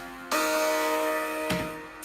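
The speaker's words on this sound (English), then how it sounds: "And then we've got the distorted one, sound like this." A distorted synth in FL Studio from a track cuts in sharply, holding a gritty, buzzing sustained tone that is retriggered once before fading slightly, heard alone.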